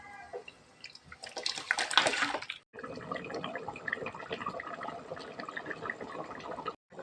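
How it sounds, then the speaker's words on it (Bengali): Beef pieces tumble into a kadai of boiling water with a burst of splashing and bubbling, then a continuous wet, churning simmer with scattered drips. "মাংসগুলোকে ঢেলে দিব"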